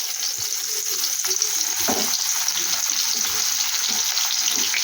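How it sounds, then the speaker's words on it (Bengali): Onion and spices fry in a wok for an egg and fennel dish, a steady close sizzle with scattered crackles and stirring scrapes running throughout, no talking. "আর ওই কড়াইতেই আমি কিছু মশলা ভেজে নিই। এই দেখো দিয়ে দিলাম এই পেঁয়াজ।"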